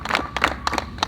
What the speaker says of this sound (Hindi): एक बार चाहूँगा फिर से जोरदार सर के लिए तालियां बजनी चाहिए।